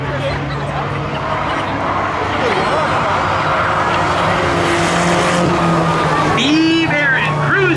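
A Volkswagen Passat and a Ford Focus, street-legal cars, race on the track at Oxford with engines droning loudly and steadily nearby, then a sharp tire squeal near the end.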